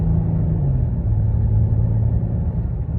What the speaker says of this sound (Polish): Owego diesla słyszymy tutaj cały czas.